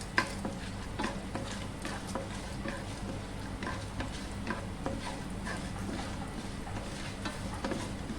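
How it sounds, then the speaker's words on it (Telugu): Chana dal with cumin and mustard seeds frying in a pan for a Bengali mint chutney, a steady close sizzle with scattered crackles and stirring scrapes throughout, no talking. "శనగపప్పు వేసుకొని వేపుకోవాలి."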